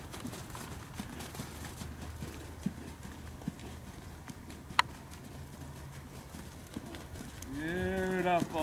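Steady rhythmic hoofbeats of a horse under a rider thud on soft arena ground throughout, with a faint voice under them and a horse's whinny rising near the end.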